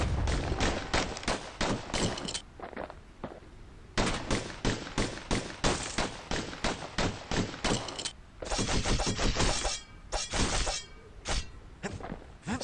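Rapid pistol gunfire from the video game Bastion crackles in dense volleys, sharp shots bunched into bursts with short gaps, loud and continuous throughout.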